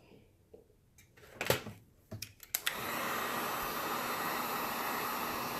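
A hot air tool heats a tray while dollhouse plates are made. A few light clicks and knocks come first, then a steady, loud, breathy blowing roar starts and runs unbroken to the end.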